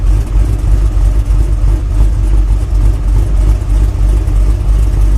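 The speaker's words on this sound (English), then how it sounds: "Let me see if I can get right down by exhaust. It's chopping hard." A deep, lumpy idle from the exhaust of a cammed, tuned 6.0 V8 swapped Chevrolet Silverado rumbles close by, loud and steady with a choppy, uneven lope throughout.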